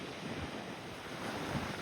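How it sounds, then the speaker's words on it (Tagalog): Strong ocean surf crashing on the North Shore of Aruba, a dense broadband roar mixed with wind buffeting the microphone, fairly faint and continuous with no voices. "Ganito kalakas yung mga alon dito."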